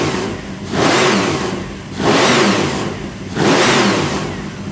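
A supercharged 383 cubic inch small-block V8 hot rod engine of about 600 horsepower revs hard three times in a steady rhythm, each burst rising quickly then dropping back toward idle, loud and close.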